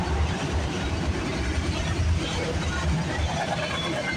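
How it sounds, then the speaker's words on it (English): A CPKC freight train carrying auto racks rolls past a station on a rainy early morning, a steady low rumble and rail noise holding level throughout, with a voice faintly talking over it. "This train's got less mixed freight this time,"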